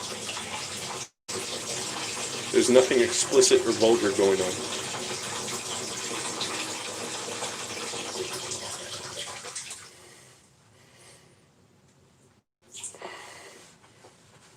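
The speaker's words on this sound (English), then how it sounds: "I'm just pouring out my water bottle." Water from a bottle pours out onto the ground in a portable toilet stall, a steady gushing splash lasting several seconds, close and fairly loud, with brief speech over it before it tapers off.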